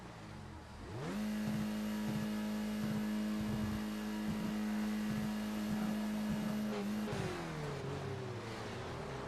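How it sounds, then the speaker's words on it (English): Skip Barber race car in iRacing launching at a race start: the engine jumps to a loud, steady high-revving whine that holds with small stutters for several seconds, then drops off as revs fall. "And he launched, but he just completely struggled to get going, did Adam Miles."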